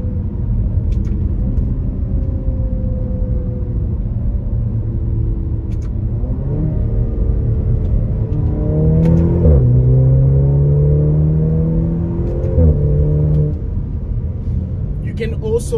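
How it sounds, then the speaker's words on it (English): A sports car engine heard from inside the cabin, a loud steady rumble that rises and falls as it revs and downshifts, with a faint whir that fits a spooling turbo. "You can also hear the turbo when he spools."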